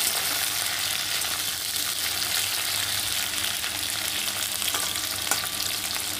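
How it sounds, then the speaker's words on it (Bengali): Drumstick vegetable pieces sizzle and fry steadily in a pan with already-fried potatoes, a continuous close crackling hiss with faint stirring scrapes and no talk. "এবার দিয়ে দেব সজনের ডাঁটা। সজনের ডাঁটাটা দিয়েও আমি একটু 2 মিনিট ভেজে নেব হালকা।"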